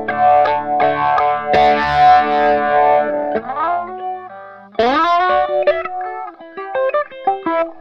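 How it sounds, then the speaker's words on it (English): Guitar played through a live rig with a grindy, Hammond organ-like effect, sustained distorted chords and bending swells with a warbling chorus shimmer, loud and close, no talking. "It's that kind of like grindy Hammond sound."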